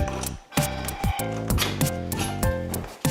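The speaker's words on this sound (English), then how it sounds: "I'm gonna undo the bolt underneath the seat if I can." A ratchet wrench undoes the seat bolt underneath the saddle of a 2019 Rad Rover e-bike, with steady, close, loud ratcheting clicks in repeated strokes.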